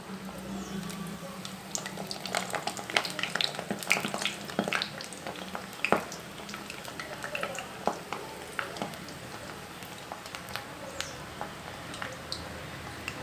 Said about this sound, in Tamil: இப்போது மாவை இதில் போட்டு எண்ணெயில் புழிஞ்சிக்கலாம்.